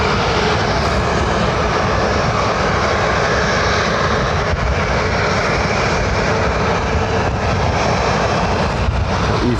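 Loud, steady roar of an EasyJet jet airliner taking off from Lanzarote Airport, a dense broadband engine noise that holds near and constant throughout without pause.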